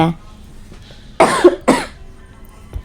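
Two harsh coughs from a character in the video game Granny: Chapter Two, in quick succession, loud and close, with a quiet background before and after.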